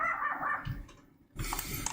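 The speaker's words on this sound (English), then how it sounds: "Those dogs." Dogs roaming a Planet Coaster theme park bark in short bursts, with a brief quieter gap before livelier yips and barks resume, moderately close and with no talking over them.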